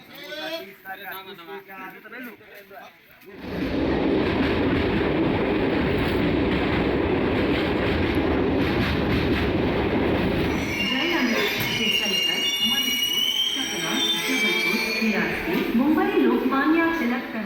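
A special passenger train from Warangal travelling toward Prayagraj gives a loud, continuous rumble with rail clatter and squeal, starting after a few seconds of voices and running steadily to the end, with talk over it later.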